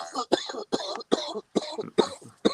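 A man coughing in a rapid fit, about seven harsh close coughs in quick succession, loud and alone.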